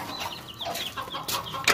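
A hen in a rural village yard clucks in alarm while guarding her chicks, a fast, agitated run of squawks and clucks, loud and close, over a busy outdoor background.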